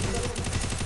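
A single sharp gunshot burst from the mobile game Free Fire, loud and close, with a brief rattling tail and no talk.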